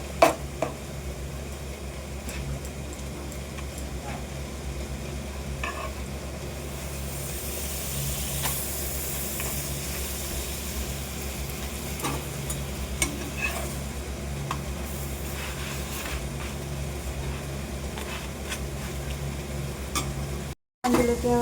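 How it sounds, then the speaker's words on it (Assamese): Dried chillies frying in a pan with a steady close sizzle and occasional stirring scrapes, continuous throughout with a low background hum. "শুকান জলকীয়া এনেকৈ ভাজি লৈছোঁ"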